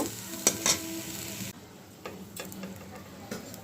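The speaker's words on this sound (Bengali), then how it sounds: "এই মশলার মধ্যে আলু আর পটলটা ভালো করে ভেজে তারপরে জল দিব" Potato and pointed gourd frying in spice masala give a close sizzle, with a couple of sharp utensil clicks early on. It then drops to a quieter crackle with occasional stirring taps.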